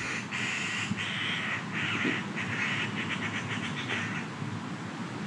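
Magpies chatter and beg in a park, a run of harsh, repeated raspy calls up close over steady outdoor background noise.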